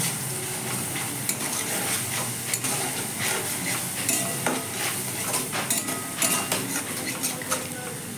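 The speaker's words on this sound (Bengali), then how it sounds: "এর মধ্যে টমেটো বাটা পেঁয়াজ বাটা রসুন বাটা আদা বাটা দিয়ে ভালো করে ভেজে নেব" Coconut paste with tomato, onion, garlic and ginger pastes frying and being stirred in a wok, with a steady close sizzle and scraping clicks throughout.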